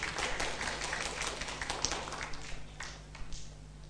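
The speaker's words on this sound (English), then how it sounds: "Please give applause for the presenter." Scattered, light applause from a small audience after an oral presentation, a thin patter of hands clapping over a low electrical hum, tapering off.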